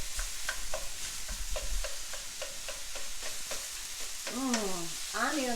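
Ground beef and onions frying for Argentine empanadas as the meat is broken up: a low sizzle under a regular train of scraping taps, then a few squeaky sliding scrapes near the end, close and fairly quiet.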